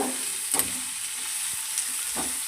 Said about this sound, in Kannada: ಇಟ್ಟುಕೊಂಡಿರುವಂತಹ ಎಲ್ಲ ತರಕಾರಿಗಳು ಬೀನ್ಸ್ ಕ್ಯಾರೆಟ್ ಕಾಳು ಪ್ರತಿಯೊಂದನ್ನು ನಾವು ಹಾಕಿ ಚೆನ್ನಾಗಿ ಎಣ್ಣೆಯಲ್ಲಿ ಲೋ ಫ್ಲೇಮಲ್ಲಿ ಬಾಡಿಸಬೇಕು